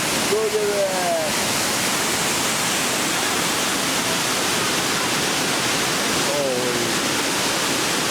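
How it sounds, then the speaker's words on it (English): Water roars out of the Hoover Dam release in a steady, loud, broadband rush that fills the whole clip, with a brief voice or two rising over the torrent near the start and again later. "Look at all the water coming out."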